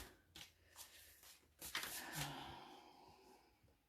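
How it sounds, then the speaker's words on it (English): Tarot cards being shuffled by hand at a reading, soft riffling bursts and papery slides close to the mic, faint and intermittent, with breathing between. "No, I gotta shuffle more."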